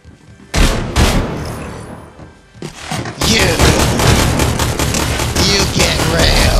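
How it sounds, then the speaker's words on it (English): Rapid bursts of gunfire and splashy impacts in Splatoon 3, loud and dense, with layered game effects and a short lull before the shooting resumes steadily. "I'm shooting."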